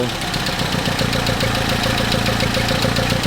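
A Hillman Hunter GLS engine fitted with Weber DCOE carburetors idles close by, giving a steady, rhythmic low rumble with a constant mechanical chatter throughout.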